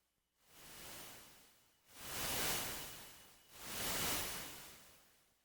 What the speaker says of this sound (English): this is just white noise, but notice how it stays white noise at all levels.